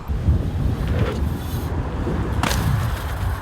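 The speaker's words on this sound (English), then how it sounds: "it's a little bit windy, it's hard to get the speed" Wind blowing across the microphone while mountain bike riding, a steady rough roar with low rumble and brief gusty swells, with no talk.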